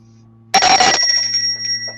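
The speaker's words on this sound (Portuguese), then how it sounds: "Aperta o sininho" A notification bell sound effect rings out as a bright double-struck chime with a shimmering ring that decays over a faint steady hum, close and loud.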